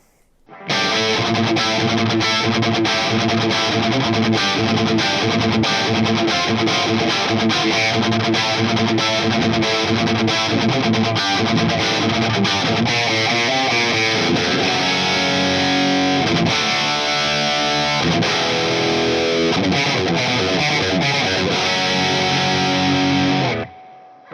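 Sustained overdriven electric guitar through a Marshall DSL100 tube amp plays chords and riffs continuously, loud and gritty with a warm distorted tone throughout.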